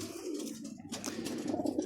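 Pigeons kept by a hobby fancier coo softly nearby, a low throaty burbling that rises slightly toward the end, with no voices present.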